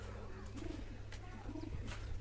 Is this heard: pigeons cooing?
yes